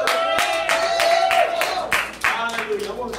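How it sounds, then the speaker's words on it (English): Hands clap in quick rhythmic bursts throughout a church service, steady group clapping close by with a voice talking and singing over it. "Clap your hands and praise the Lord."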